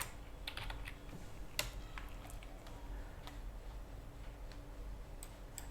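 Keys clatter on a computer keyboard as code is typed, with quiet, irregular clicks and a few sharper taps over a low steady background hum, no voices.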